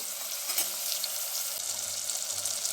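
Vegetables and mint frying in hot oil for a vegetable saagu, a steady close hiss and sizzle with faint low hum and no talking.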